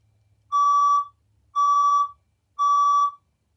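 A science room fire alarm under test sounds three loud, sustained electronic tones of equal length, evenly spaced about a second apart, with nothing else heard between them.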